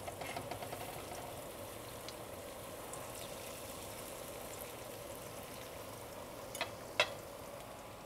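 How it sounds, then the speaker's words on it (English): Falafel frying in oil makes a low, steady sizzle throughout, with a couple of brief clinks near the end and no talking. "Frying them up."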